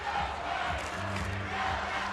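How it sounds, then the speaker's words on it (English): Crowds at a girls state basketball championship game cheer and roar steadily and loudly throughout, a dense continuous wall of voices with no clear pauses. "Both crowds getting into it now"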